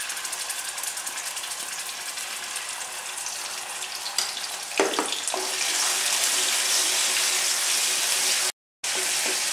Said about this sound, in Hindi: इसमें हम जिंजर गार्लिक पेस्ट डालेंगे और सौते करेंगे